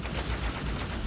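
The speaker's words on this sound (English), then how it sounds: "Ah, alien rocket launcher." Weapon fire in the Halo video game from an alien rocket launcher, a dense continuous blast of rumbling explosive noise filling the whole short moment, loud and close.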